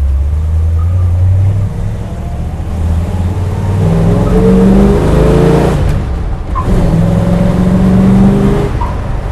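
Dodge Challenger R/T with a 440 V8, six-pack carburetion and manual gearbox, a classic muscle car, revving hard through the gears with deep, loud, continuous engine roar and rising pitch sweeps, heard close with no talk.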